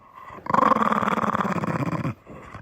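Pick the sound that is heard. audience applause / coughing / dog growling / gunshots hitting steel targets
dog growling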